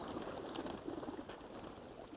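Pigeons coo softly at Khecheopalri Lake near Pelling, Sikkim, their low murmuring calls repeating steadily among a crowd of birds against a diffuse outdoor background.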